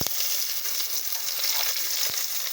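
Garlic and onion frying in a pan for adobo, a dense, steady sizzle with a few soft stirring clicks, close and alone without talk.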